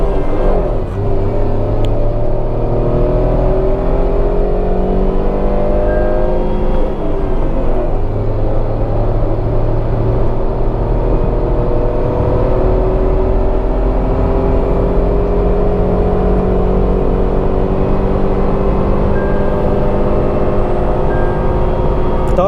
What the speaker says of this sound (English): Third gear up to 130 kilometers per hour.